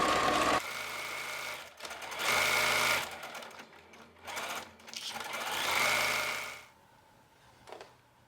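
A sewing machine stitches a shirt's outer yoke to the back bodice in bursts of steady mechanical whirring, three main runs with short pauses and a faint tail at the end.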